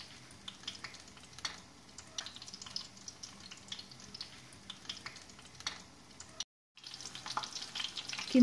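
Cauliflower florets frying in oil and being turned over, a soft, steady sizzle with light scattered crackles and pops throughout, briefly cutting out near the end before resuming.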